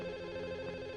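A telephone rings with a steady electronic tone, sustained and moderately quiet, heard alone indoors.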